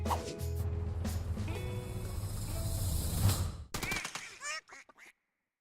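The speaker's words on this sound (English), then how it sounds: "We're killing some ducks today." Ducks quack in a duck slaughter video game over busy game music and effects, and a few sharper duck calls stand out near the end as the background drops away.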